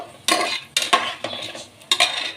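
Onions and cashews frying in oil in a pan, stirred in four distinct bursts of scraping and clattering with a soft sizzle underneath.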